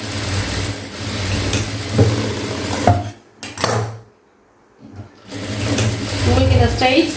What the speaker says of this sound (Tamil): நெக் சைட்லேருந்து தான் தையல் போடணும்